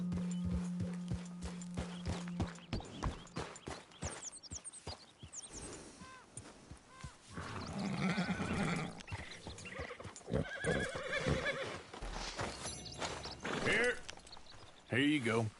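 A horse in the video game Red Dead Redemption 2, with a clear whinny and rhythmic clip-clop of hooves that speed up into a run, mixed with game music and spoken voices.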